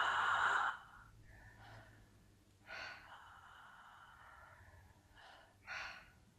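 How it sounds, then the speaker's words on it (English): Deep breaths in and out during a guided breathwork exercise, with a strong breath at the start and two further soft breaths later, close and quiet over faint background. "With the power of your breath, breathing in and out."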